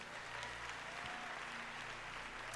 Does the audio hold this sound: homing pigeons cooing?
no